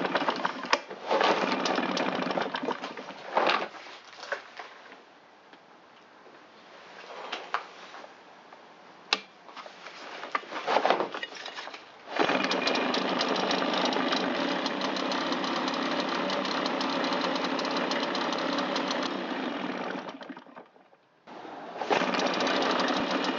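A Husqvarna 350 chainsaw with a freshly installed spark plug starts on the first pull and runs, its two-stroke engine buzzing loudly and steadily with brief dips and surges, close up and alone.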